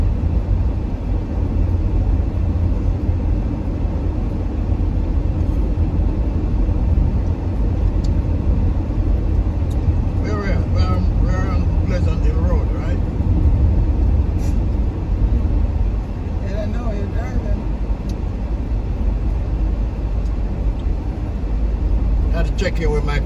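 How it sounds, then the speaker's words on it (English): A car driving along on a Sunday afternoon, its engine and road rumble a steady, close drone throughout, with brief bits of voice now and then. "We're just driving on a Sunday afternoon."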